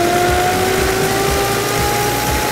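A 1929 Dennis G-type fire engine accelerating in second gear without a synchromesh, a loud, close mechanical roar with a whining tone that climbs steadily in pitch.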